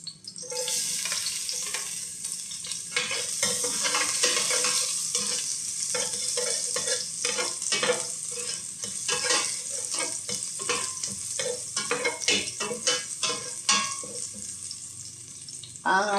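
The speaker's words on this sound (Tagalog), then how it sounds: "konting luya, gigisa na tayo." Ginger, garlic and onion sauté in hot oil in a pan with a close, crackling sizzle broken by repeated scraping and stirring strokes, and a brief faint voice near the end.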